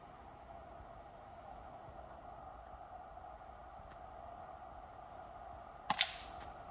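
A .22 caliber PCP air rifle fires one sharp, brief snap near the end of an iguana hunt in a Florida neighborhood, standing out over a steady outdoor background hum.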